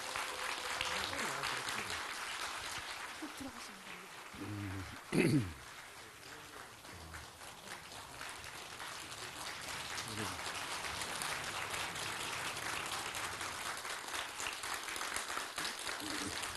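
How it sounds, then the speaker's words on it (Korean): A large lecture-concert audience applauds continuously, a dense wash of clapping that swells briefly with a thud, then carries on evenly. "큰 박수로 모셔보도록 하겠습니다"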